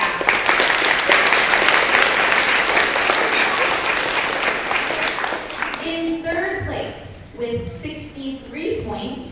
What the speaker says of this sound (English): let's give a round of applause to Mrs. Brandon's class.